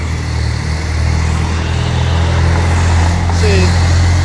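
A semi truck rolls past at an intersection, its engine a continuous low rumble that swells slightly louder toward the end under heavy road noise, with no voices.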